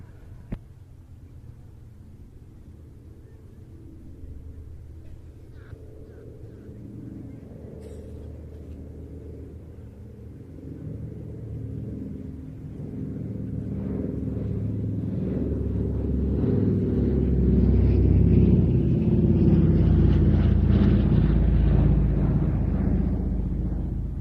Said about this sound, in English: This is the Douglas C-47A Dakota.